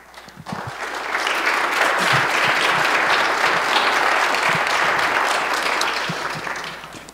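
An audience at a political gathering for congressional candidates bursts into sustained applause, a dense wash of clapping that swells quickly, holds steady for several seconds and then tapers off.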